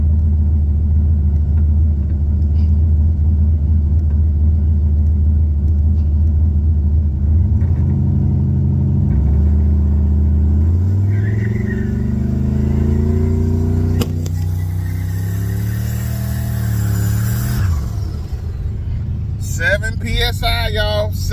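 A turbocharged Chevrolet Caprice on a budget build accelerates under boost, around 7 PSI: a loud, close engine rumble whose droning tone climbs steadily in pitch, then drops off as the throttle lifts near the end.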